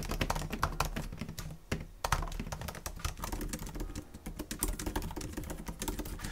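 Keys clatter steadily on the keyboard of a 2019 13-inch MacBook Pro laptop, a dense run of close, light clicks with a brief pause near the two-second mark and no talking.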